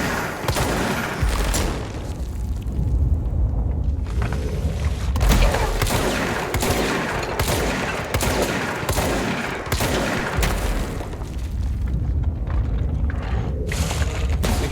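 Gunfire from a weapon in the video game Control: dense, sustained bursts of shots and booming impacts filling the whole stretch at steady loudness, with no talk over it.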